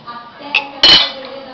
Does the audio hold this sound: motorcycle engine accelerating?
no